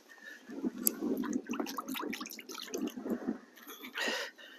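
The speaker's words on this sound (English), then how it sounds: "Just rinse this in the bucket." Something is swished and rinsed in a bucket of water on North Beach, Great Yarmouth, with close splashing, sloshing and dripping sounds running through the few seconds, ending in a short burst of pouring.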